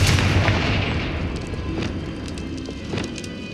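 Confringo fire spell bursting in the video game Hogwarts Legacy, a loud booming blast at the start that settles into a rumbling, crackling tail.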